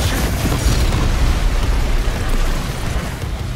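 Rocket explosions in Doom Eternal, a loud, continuous roaring boom of blasts and debris rumbling for several seconds before easing slightly.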